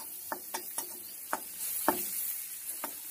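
Onions fry in a pan with a soft, steady hiss, while a spatula turns them in a handful of distinct scraping taps spaced unevenly over a few seconds, heard nearby without any voices.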